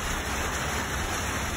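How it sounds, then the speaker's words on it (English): Rain beginning to fall in a small park in Wilburton, Oklahoma, a dense steady hiss of drops close by, fairly loud and unbroken, with no talk. "It's starting to rain."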